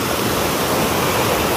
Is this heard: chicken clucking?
no